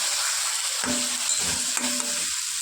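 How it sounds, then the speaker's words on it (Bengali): Eggplant frying in masala and oil while being stirred, a continuous bright sizzle broken by a few scraping strokes of a spatula in the pan, close and with no voices. "তারপর বেগুনটা ছেড়ে দিয়ে বেগুনটাকে ভালোভাবে নাড়তে চাড়তে হবে।"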